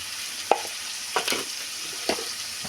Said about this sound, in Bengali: দিয়ে মশলাটা একটু কষিয়ে নেব।